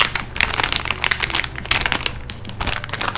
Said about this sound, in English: as Daiso's Petite blocks do come in, a little resealable bag